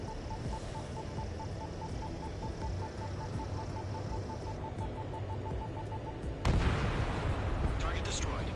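Anti-aircraft guns firing in a combat video game, a sustained rumbling barrage under a steady tone that breaks into a louder burst of fire near the end, with voices in the mix.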